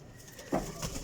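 A short, soft pigeon coo sounds close by, a quick throaty murmur from Sialkoti flying pigeons with nothing else going on around it.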